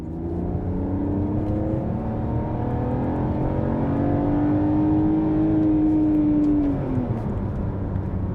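A 2005 BMW ZHP engine revs up under acceleration, a continuous loud drone with rising pitch that climbs steadily toward redline, then drops as the revs fall away near the end.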